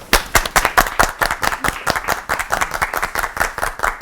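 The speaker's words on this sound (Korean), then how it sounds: "박수로 맞아주시기 바랍니다." An audience at a church television program applauds to welcome a preacher, with loud, distinct claps in a quick, fairly regular rhythm that continue throughout without talk.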